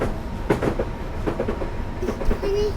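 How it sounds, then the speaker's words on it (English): In Train Simulator 2015, a passing train rolls by with rhythmic clickety-clack of wheels over rail joints, moderately close, and a brief thin squeal near the end. "Oh, here comes the train."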